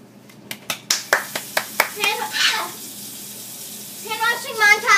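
Hands washed under a running tap give a close, splashy rush of water, led in by a quick series of sharp clap-like slaps, while children talk over it.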